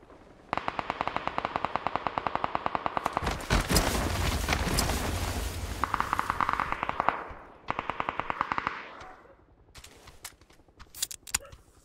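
Rapid bursts of machine gun fire in PUBG, with loud rattling volleys separated by short pauses, heavy booming impacts in the middle, and scattered single shots near the end.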